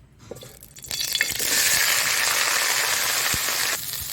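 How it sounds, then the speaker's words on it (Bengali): Cauliflower florets fry in mustard oil for a Saraswati puja khichuri, a loud, steady sizzle that swells after a second and holds to the end, with a few faint clinks near the start. "সর্ষের তেল দিয়েছি সব ফুলকপিটাকে"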